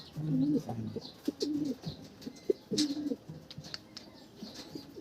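Racing pigeons coo in a loft in soft, scattered bursts, with a few light chirps and small rustles between the calls, fairly quiet overall.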